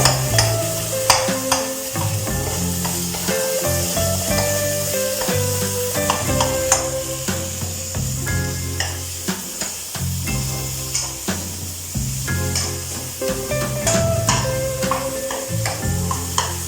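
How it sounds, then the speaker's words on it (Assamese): Dosa filling fries in a pan with a steady, dense sizzle and occasional stirring scrapes, heard continuously under tonal background music. "এইখিনি এতিয়া ভজা হৈ গৈছে আৰু অলপ সময় ভাজিলে"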